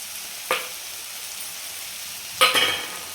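Boiled potato pieces tipped into a hot pan of tomatoes and peas give two short sizzling bursts, a brief one and then a louder, longer hiss, against a quiet background.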